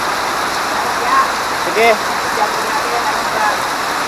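Heavy rain pours steadily as a broad, constant wash on a mountain road in Pugo during a bike ride from Pangasinan to Benguet, with a brief voice speaking over it.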